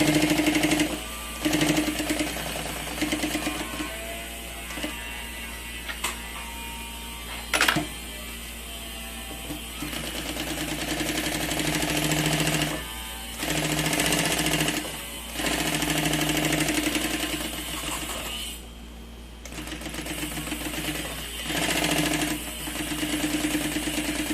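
A sewing machine stitches around the lining of a large diaper bag in long, steady runs broken by short pauses and a few sharp clicks.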